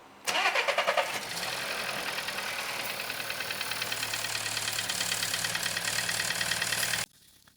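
A VW 1.5 petrol engine starts up after a timing belt and spark plug job: a brief cranking catch flares into a loud, steady idle that runs close to the mic for several seconds, then cuts off abruptly.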